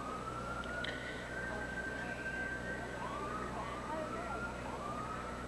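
An ambulance siren wails in rising and falling sweeps, moderately distant, amid city emergency traffic in New York on September 11, 2001, over a steady background hum.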